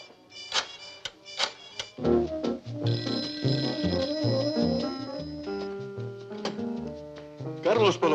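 A telephone bell rings in short repeated bursts in an indoor domestic setting, with background music and voices around it.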